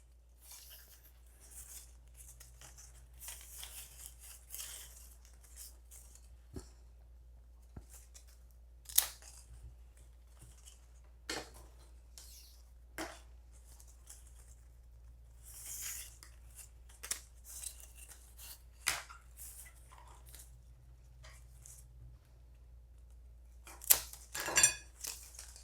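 Scissors or snips cut basket weaving stakes in a quiet room with a faint background hum, giving sparse, irregular close clicks and snips plus light handling rustles.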